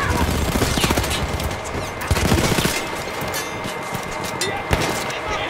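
An automatic weapon in the video game Battlefield 1 fires in long rapid bursts, loud and dense, with someone talking over the gunfire.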